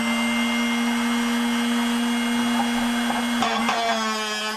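A Drill Doctor drill bit sharpener running steadily with a loud, even motor whine, broken near the end by a brief grinding change.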